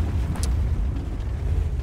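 Tank ammo rack explosion in World of Tanks, a heavy low boom that rumbles steadily through the whole stretch, with a brief brighter crack near the start and no talk.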